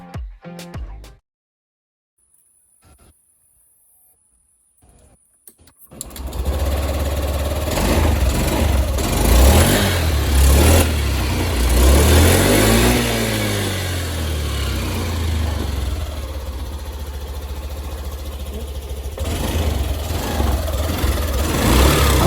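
A Honda Dio BS6 scooter engine, previously troubled by misfiring, sits quiet before being started. It then catches and runs steadily near the listener, with a rise in revs in the middle, then settles back to a steady idle.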